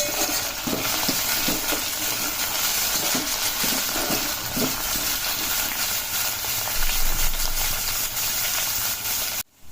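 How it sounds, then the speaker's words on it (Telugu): Potatoes, carrots and green peas for a vegetable pulao fry loudly in a pot, a dense steady hiss with repeated scraping stirs in the first half, then continuous sizzling before an abrupt cut. "ఇప్పుడు ఇలా కలుపుకొని క్యారెట్, పచ్చి బఠానీ ఇవన్నీ వేసుకొని కలుపుకోవాలి"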